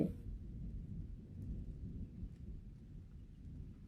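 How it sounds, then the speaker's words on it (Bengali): Low rumbling rain with a dull, muffled wash, steady and fairly faint, with a few light drops ticking on top. "কিরম বৃষ্টিটা দিল এখন"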